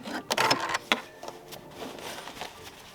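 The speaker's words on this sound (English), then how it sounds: "Now I'll backstitch just a couple stitches, and that's all that's needed." A home sewing machine backstitches a few stitches on a jeans hem, giving short, close mechanical bursts of rapid needle clatter, then quieter running whirr.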